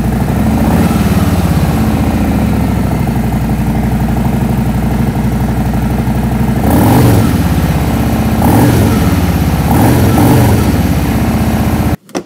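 Harley-Davidson 2023 Road Glide Standard fitted with Khrome Werks 4.5 HP Plus slip-on exhausts, idling with a loud, lumpy V-twin rumble close up, with several sharp throttle blips, before the engine cuts off.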